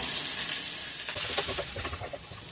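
Mustard seeds, asafoetida and finely chopped garlic sizzle in hot white oil for South Indian masala lemon rice, a dense continuous hiss and crackle with scattered small pops close by.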